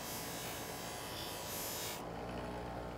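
A knife edge pressed against a spinning cloth buffing wheel loaded with polishing paste gives a steady close whirring, scraping rush that stops abruptly partway through, leaving a quieter motor hum.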